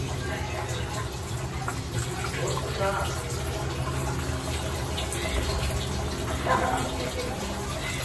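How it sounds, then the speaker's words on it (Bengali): Rice-washing water being poured into a bottle at home, a continuous rushing, gurgling pour that holds steady for several seconds with faint background noise. "চালের পানিটা এই বোতলে করে রাখবো"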